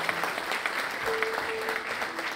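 Applause from the audience at an evening concert of Malayalam music, honouring the singer: a sustained wash of many clapping hands, moderately loud, with faint tones lingering underneath.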